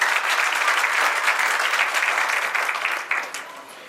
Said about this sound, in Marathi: एकदा त्यांच्यासाठी जोरदार टाळ्या होईल